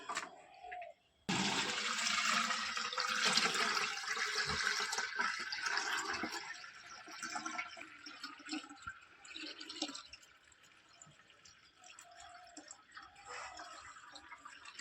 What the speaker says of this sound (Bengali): এখন দাদাভাই এটাকে ছেঁকে নেবে